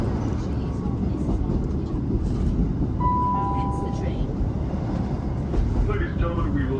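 Steady low rumble of a train running toward Hereford station, a dense continuous rolling drone with faint squeals, heard from inside the carriage under an onboard announcement.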